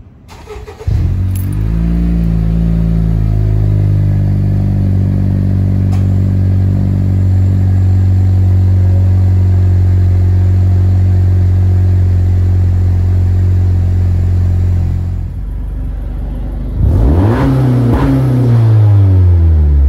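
A 2016+ Honda Civic 1.5T fitted with a Magnaflow exhaust and its resonator removed idles loud and steady at close range. It shuts off near the 15-second mark, then restarts with a rising burst.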